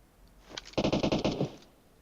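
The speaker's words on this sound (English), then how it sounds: "there's some shooting" A brief burst of rapid automatic gunfire in PUBG Mobile rattles off about eight quick shots in under a second, fairly distant and moderately loud.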